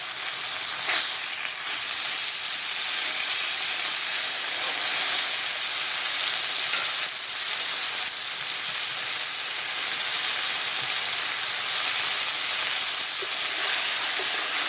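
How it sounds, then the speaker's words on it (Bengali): Fish coated in salt and turmeric fries in a pan with a steady, close, hissing sizzle that holds constant throughout, with no talking over it. "নেড়ে মাছটাকে একটু নেড়ে চেড়ে ভেজে নিয়েছি।"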